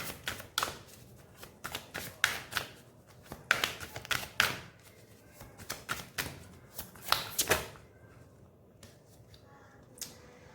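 Tarot cards are shuffled and pulled from a deck up close, producing bursts of sharp riffling clicks and snaps in quick clusters, separated by short quiet gaps and a few isolated taps.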